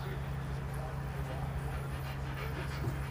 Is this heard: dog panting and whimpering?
yes